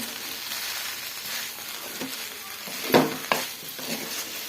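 Mutton blood fry with pepper stirred in a pan, a continuous close sizzle broken by a couple of sharp scrapes of the spatula against the metal, with no talking.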